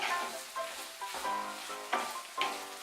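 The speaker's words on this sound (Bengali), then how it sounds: "দিয়ে এখন বিনসটাকে আমি ভালো করে একটু ভেজে নেব।" Green beans fry with slit green chillies in a pan over raised heat, a steady faint sizzle broken by several stirring scrapes at roughly half-second intervals, close and with no talk.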